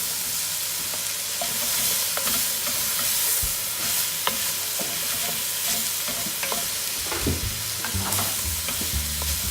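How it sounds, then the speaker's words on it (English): Mushrooms and garlic fry in a hot pan, sizzling steadily while a utensil stirs and scrapes them, with a few clear knocks against the pan and a louder burst of sizzle near the end. "Give it a good stir."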